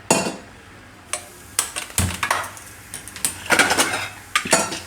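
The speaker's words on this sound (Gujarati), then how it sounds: "કુકરનું ઢાંકણું બંધ કરી દેવું." Metal pressure cooker lid being handled and shut on a kitchen stove while cooking lilva paratha filling: a run of sharp clanks and clinks of steel, close and fairly loud, with short pauses between knocks.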